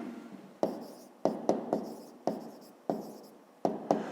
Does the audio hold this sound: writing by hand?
yes